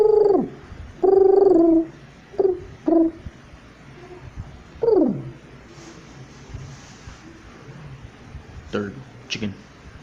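A human voice imitates a pigeon with a few short cooing and warbling calls, spaced out by pauses, close and fairly loud.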